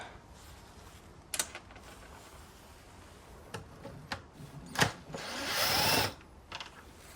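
T30 Torx screws come out of the air filter housing on a 2012 Mercedes S350d W221. A few sharp clicks and taps are followed by a short, whining run of a power driver lasting about a second, close up in a quiet garage.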